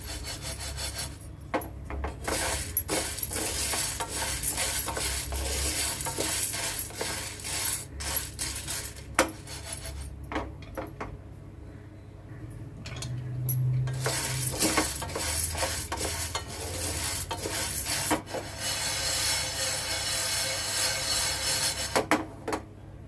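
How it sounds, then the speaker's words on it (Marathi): Sago pearls dry-roasting in a pan over medium heat, stirred continuously with a spatula, giving a steady rustling, scraping and rattling of the grains against the metal. "मीडियम गॅसवर आपल्याला चार पाच मिनिट तरी भाजून घ्यायचं आहे जेणेकरून साबुदाण्यामधला मॉइश्चर सगळा निघून जाईल"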